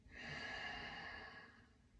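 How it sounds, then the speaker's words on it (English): A single long, steady breath exhaled through the nose during yoga breathwork, soft and close, fading gradually over about two seconds with no talking. "Exhale through the nose."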